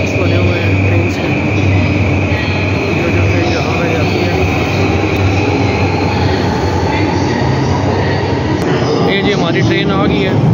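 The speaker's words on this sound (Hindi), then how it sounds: "पता ये भी ट्रेन आई है जी किसी स्टेशन में जाने के लिए" A train pulls into a station in Japan, a loud continuous rumble of wheels on rails with metallic squealing, filling the whole stretch while a voice talks over it.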